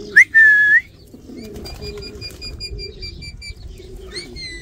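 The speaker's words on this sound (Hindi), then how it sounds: "देखिए ये रहा मेरा प्यारा तोता" A pet parrot gives a loud, sharp whistled call near the start, followed by softer repeated chirping whistles and a final rising whistle over faint background noise.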